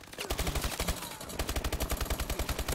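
Rapid gunfire in a video game, a rattling burst of repeated shots in a fast, even rhythm, loud and close throughout with no talking.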